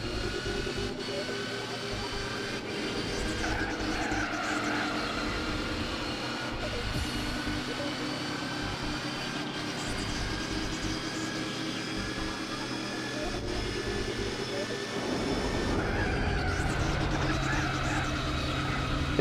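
Gran Turismo 4 pickup truck with a racing exhaust, its loud steady engine drone holding throughout with layered harmonics and a brief surge in revs near the end, with faint talk underneath.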